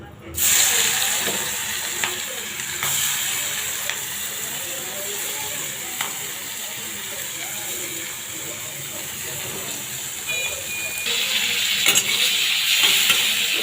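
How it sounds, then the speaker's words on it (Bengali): Marinated prawns frying in hot oil, a loud, dense sizzle that starts abruptly and holds steady with crackling pops and a few spatula scrapes, close up and alone. "এখন এগুলো ভেজে নিব তাহলে"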